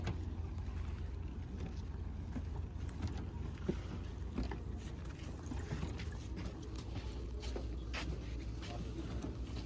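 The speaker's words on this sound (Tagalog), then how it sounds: "So tayo po ay tatawid na at sasakay sa bangka." A small outrigger boat crossing water near Boracay, its motor giving a steady low rumbling drone with splashing and knocking, while voices talk faintly over it.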